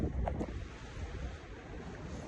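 Wind on a cold, wet winter day outdoors: blustery, rumbling wind buffeting the microphone, louder gusts at the start easing to a steady roar.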